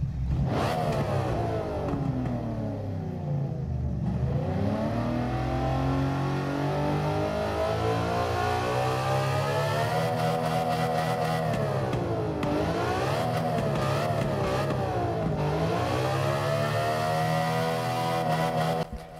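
A 1997 BMW M3 engine in the video game Gran Turismo 7 revs repeatedly, rising and falling in pitch with a raspy, aggressive tone, loud and continuous with no talk.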